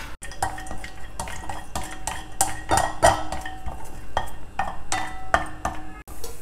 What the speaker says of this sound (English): Heat a teaspoon of ghee, add some broken cashew nuts to it